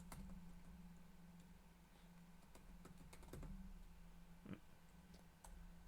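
Someone types on a computer keyboard, irregular scattered key clicks over a low steady hum, with no talk.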